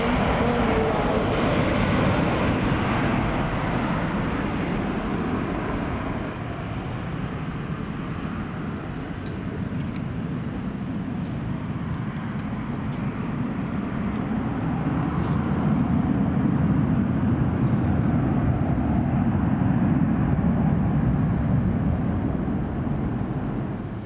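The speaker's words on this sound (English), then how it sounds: "Just taxied onto runway as this jet to some holiday. This aircraft is going to Dubrovnik. It is an Airbus A321-200" An Airbus A321-200 jet taxiing onto the runway at Manchester Airport, a steady loud engine roar that swells and holds throughout, close by, with no talk over it.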